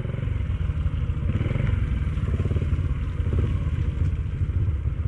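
Several Honda Cub motorcycles ride in through mud at a camp, their small engines putting out a steady, close, continuous putter and rumble with some clatter.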